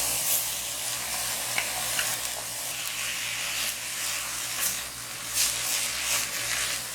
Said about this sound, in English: I'm just gonna cook this just for about a minute or two, just until the carrots and the onions and everything are nice and tender